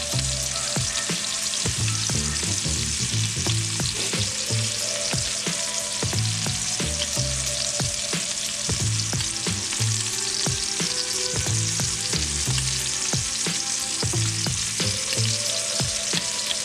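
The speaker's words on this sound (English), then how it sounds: "So we're searing that other side off." Loud, constant sizzling of a 60-day dry-aged sous vide ribeye steak searing in a hot pan, with occasional scraping and clinks of utensils, no voices.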